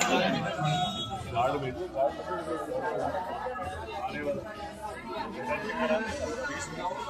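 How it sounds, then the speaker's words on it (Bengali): Dense crowd chatter at the entrance to Nidhivan in Vrindavan, a continuous close babble of many voices with no single speaker standing out. "এখন আছে নিধি ভবনে ঢুকছি আস্তে আস্তে, প্রচুর ভিড়"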